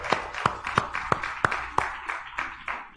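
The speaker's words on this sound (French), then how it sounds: "Can you clap for yourself first?" A church congregation claps in a steady rhythm at a bilingual English-French service, each clap sharp and distinct, about six evenly spaced beats followed by a looser patter.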